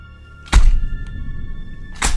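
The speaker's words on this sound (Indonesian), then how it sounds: "suara gagang pintu pun terdengar" A door handle sound effect from a horror story set in an office: a sharp mechanical thunk, then a faint click and a second loud clack, close and clear over a low steady hum.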